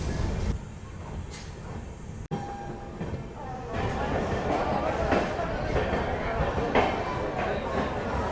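Amrit Bharat Express train pulling out of Hasanpur Road Junction, heard from inside a coach: a low rolling rumble and wheel clatter build after a sharp knock, with rattling carriage noise and faint voices.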